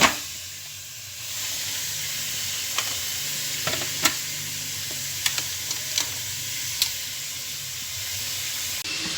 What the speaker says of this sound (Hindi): अब जो है हम जो है लहसुन अदरक और गोश्त को अच्छे से भून रहे हैं